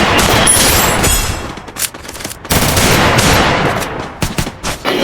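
Loud, rapid bursts of automatic gunfire from a video game firefight, dense rattling volleys with brief gaps between strings of shots, dominating the foreground with no speech over it.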